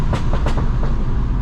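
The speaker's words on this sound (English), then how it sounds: "Oh my god, them pops are so loud." Loud, sharp exhaust pops and crackles from a Mini JCW driving in ice and snow burst over a constant roaring engine drone, several in quick succession, close and harsh.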